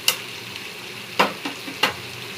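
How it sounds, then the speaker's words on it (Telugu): Chopped tomatoes and chicken sizzle in hot oil in a pan while being stirred, with a few distinct scraping stir strokes spaced over a steady, soft frying hiss. "ఒకసారి కలిపి ఇవంతా కూడా మగ్గి ఆయిల్ అంతా బయటకు వచ్చే వరకు ఫ్రై చేసుకుందాం."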